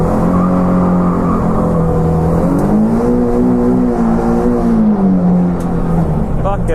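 Nissan 370Z engine at half throttle while drifting, a loud close steady drone whose pitch climbs and wavers, then dips and rises again near the end.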